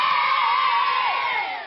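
Studio audience of a music quiz show roaring in a loud, sustained cheer with whoops and shouts from children, holding steady before easing off slightly at the end.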